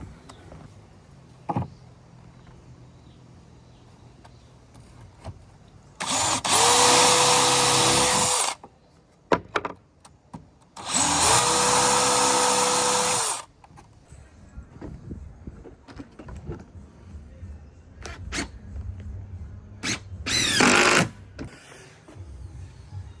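Power sander working on wooden deck cladding, in two loud sustained bursts of a few seconds each and then a shorter burst, with quieter workshop noise between them.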